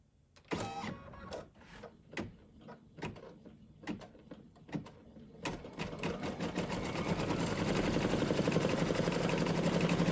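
Embroidery machine laying a tack-down stitch with metallic thread for an appliqué pillow: a string of sharp, spaced clicks and thumps gives way to a steady, loud whirring hum of continuous stitching.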